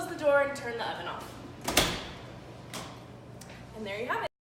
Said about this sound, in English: Close the door and turn the oven off.